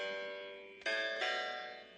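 A custom-built instrument in the BeatMaker2 app with its release lengthened, two bright tonal notes struck in quick succession that ring on and fade slowly, sounding reverberant and bell-like.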